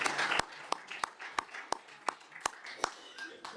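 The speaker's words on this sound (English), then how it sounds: "Can we give her a round of applause" Slow, evenly spaced clapping at a municipal council meeting, about ten sharp, distinct claps from only a few hands, with a quiet room hush between them.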